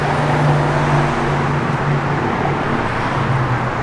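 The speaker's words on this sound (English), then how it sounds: "The engine in this thing really sounds good." A 1970 Chevrolet Camaro RS with an LS5 454 V8, nice cam and Edelbrock four-barrel runs with a steady, throaty low rumble, close and continuous, with no voices.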